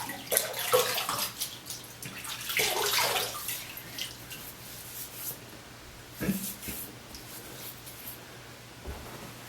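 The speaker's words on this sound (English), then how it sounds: "I'm going to add some hot tap water to my face" Hot water runs from a tap in a steady splashing stream with a few louder bursts, close by, with faint background hum.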